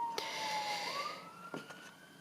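A fire engine's siren passes at a moderate distance, a single sustained tone that dips and then climbs steadily against a background hiss, with no voices.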